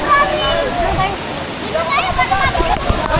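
Canding Falls, a waterfall in Luzon running high, gives a steady broadband rush of falling water throughout, with people talking over it much of the time.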